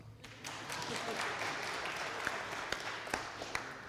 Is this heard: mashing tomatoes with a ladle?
no